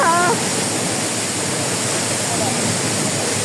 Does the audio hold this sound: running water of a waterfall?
yes